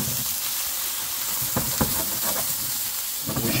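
Butter sizzles in a hot frying pan, a steady bright hiss with a few soft crackles and pops scattered through, close up and without talk.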